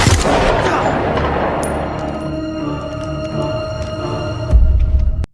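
A single loud gunshot in a tense film confrontation, with a sharp blast at the start that decays into a long reverberant ring, and a second heavy thud near the end.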